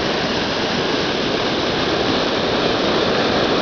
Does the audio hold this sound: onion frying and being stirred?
no